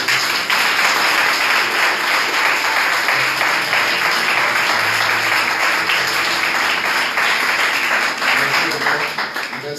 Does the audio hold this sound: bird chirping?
no